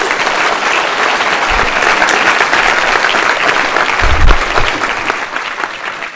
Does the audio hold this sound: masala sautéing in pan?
no